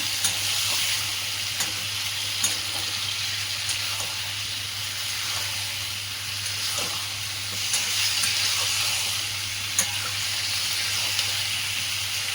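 Washed cauliflower pieces sizzle and crackle in a pan of gobi bhaji while being mixed, a steady close hiss with small scraping clicks running throughout and no voices.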